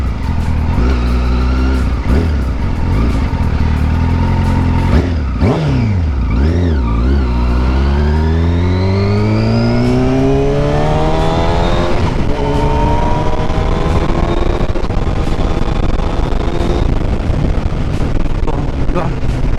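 Engine of a Yamaha R1 motorcycle on a test ride, loud and close, revving up through rising pitch sweeps with quick-shift gear changes, buffeted by wind noise throughout.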